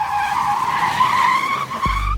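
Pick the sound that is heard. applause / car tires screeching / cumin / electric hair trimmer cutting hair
car tires screeching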